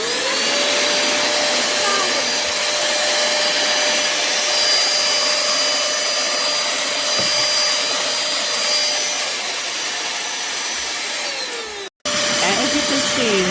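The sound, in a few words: pemacom cordless handheld vacuum cleaner running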